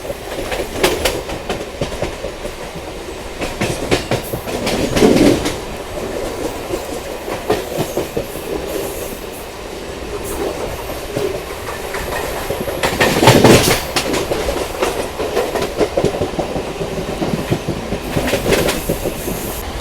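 MEMU passenger train rolling past on rails at night, loud and close with steady rumble and rhythmic clickety-clack of wheels over rail joints, swelling in bursts.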